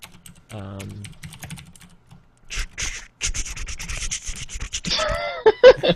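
A voice imitates computer keyboard typing with mouth clicks and scratchy bursts, short irregular clattering runs near the microphone, broken by brief pauses and ending in voiced squeaks and laughter.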